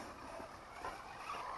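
RC nitro buggy (Hyper 9 / NXT) blipping its throttle on a garden dirt track, a rasping small-engine buzz with tire scrabble, fairly distant and steady over a second and a half.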